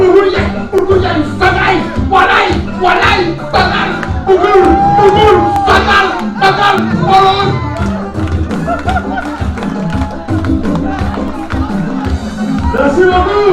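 Crowd at a general assembly cheering and shouting for Sophie, a dense roar of many voices with scattered whoops and claps, loud and sustained throughout.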